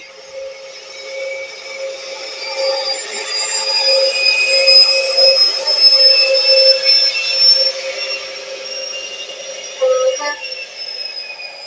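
An InterCity 125 diesel train on the line out of Edinburgh Waverley, heard from on board as a steady engine drone with rail rumble and a whining high tone that swells midway, plus a short clatter near the end.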